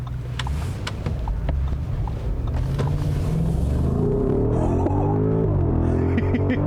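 A 2021 Audi SQ8 SUV, 500 hp, under way, with a deep engine throb and road rumble that rise steadily in pitch as it accelerates, loud and continuous.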